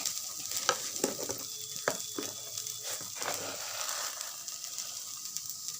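Bottle gourd peel, already steamed with a splash of water, fries in a pan, giving a soft continuous sizzle. Several sharp scrapes and clicks of stirring fall in the first few seconds.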